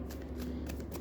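A brief burst of tarot cards being shuffled and drawn, soft papery swishes close by over a steady low hum, with no voice.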